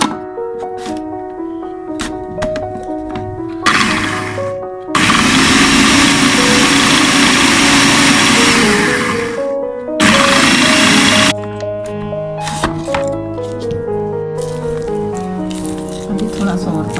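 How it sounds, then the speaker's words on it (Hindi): An electric kitchen grinder grinds soaked lentils into batter for peethi ladoo in two loud whirring bursts of several seconds each, broken by pauses, with someone talking throughout between runs. "ये से थोड़ा सा मैं पीस लूंगी।"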